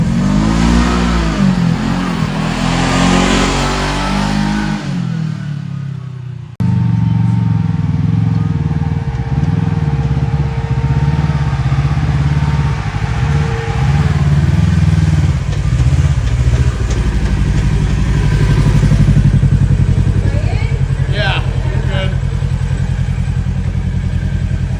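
A Kawasaki KRX 1000 UTV on 35-inch tyres with an RNG Stingray clutch kit revs hard and loud, its engine climbing and falling in pitch through repeated surges up close.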